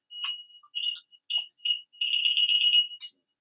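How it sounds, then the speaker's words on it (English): A home alarm beeps in short, repeated electronic bursts, with a long sustained stretch of tone near the end before it cuts off; fairly loud and close, with no talking. "Let me turn off the alarm."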